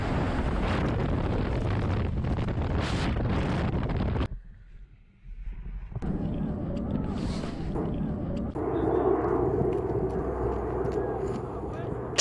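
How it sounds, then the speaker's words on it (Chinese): A large military transport aircraft in flight with its cabin door open as paratroopers jump, giving loud roaring wind and engine noise that drops briefly before surging back, with voices heard over it. "飞机抵达预定空域，机舱门缓缓打开，新战士们勇敢跃出机舱。"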